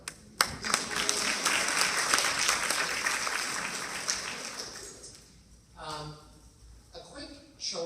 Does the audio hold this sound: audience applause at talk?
yes